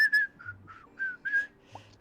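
A bright, melodic whistled tune plays in a video game during a charity stream, with short clear notes rising and falling in a quick, jaunty rhythm.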